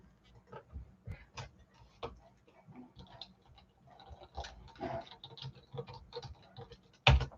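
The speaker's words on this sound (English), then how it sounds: "And I'll type her name in." Quick, irregular bursts of computer keyboard typing, fairly close and quiet, as a name is entered, ending with a sharper louder click.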